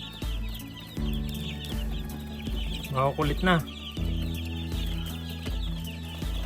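Rhythmic mechanical thumping runs under speech, while a couple of 22-day-old parent stock hens break in with loud, rising clucks midway.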